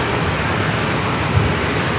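A Boeing 747 airliner passes overhead near San Diego airport, a loud, steady broadband engine roar that holds constant throughout with no talk.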